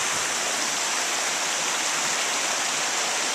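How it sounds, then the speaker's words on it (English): Creek water flowing beneath a footbridge, a steady close rushing wash with no breaks, even and fairly loud throughout. "I'm now standing on a bridge with the creek flowing underneath it."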